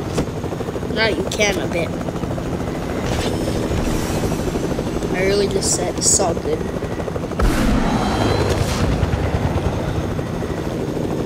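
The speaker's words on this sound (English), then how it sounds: "do not drive a helicopter inside Weeping Ground" A helicopter thrums continuously in a shooter video game, its rotor drone steady beneath excited players talking over voice chat, with occasional sharp bursts of gunfire.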